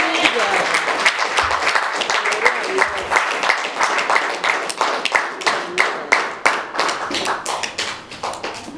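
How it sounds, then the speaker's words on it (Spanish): Congregation claps in a church service, a burst of dense clapping that thins into distinct, rhythmic individual claps near the mic, with voices mixed in. "Un aplauso al Señor"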